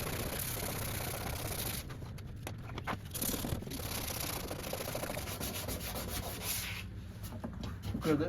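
Dense, steady hand sanding with 180-grit paper on a steel bracket, taking it down to bare metal before welding on a 13th-gen jump seat for an OBS truck; continuous close rubbing strokes with no talk.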